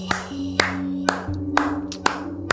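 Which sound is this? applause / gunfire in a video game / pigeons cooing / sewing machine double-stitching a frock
applause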